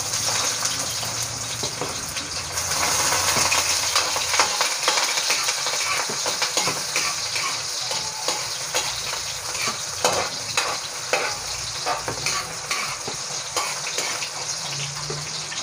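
Onion sautés in a hot pan for pancit bihon guisado, a dense, steady sizzle and crackle with stirring scrapes, loud and close with no talking.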